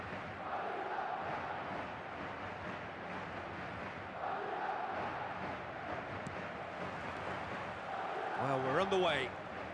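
Stadium crowd in the eFootball video game, a steady roar of massed fans throughout, swelling louder near the end as a voice speaks over it.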